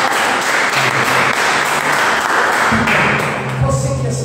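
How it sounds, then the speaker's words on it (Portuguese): A church congregation applauding during a family worship service, loud steady clapping from many people with voices and music mixed in underneath. "Você pode aplaudir o Senhor bem forte."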